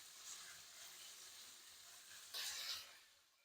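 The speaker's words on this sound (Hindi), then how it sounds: "चिकन को अच्छे से फ्राई करेंगे। साथ साथ आपने हिलाते जाना," Chicken pieces frying in a pan over medium heat for fajita rice, a steady soft sizzle with a brief louder burst of stirring near the end, fairly faint and without talk.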